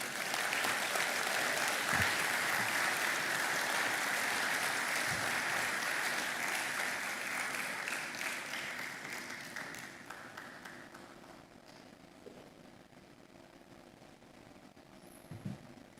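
Audience applause at the Africa Retail Congress 2025 after a talk, a full room clapping strongly at first and then gradually thinning and fading to scattered claps and a few knocks near the end.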